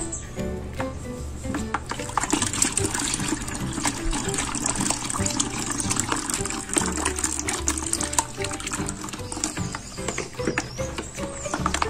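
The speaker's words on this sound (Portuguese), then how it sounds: "aqui já está diluído o sal com a água, vamos jogar aqui dentro" Salt dissolved in water is poured into a homemade liquid soap base, giving a steady liquid pour and splash that runs continuously at moderate level.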